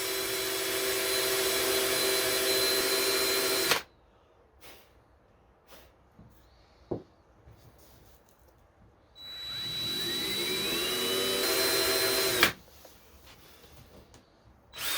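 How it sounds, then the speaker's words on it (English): A loud, steady electric drill whines for several seconds, stops, then starts again after a quiet pause with a few small knocks in between. "Let the drill do the work."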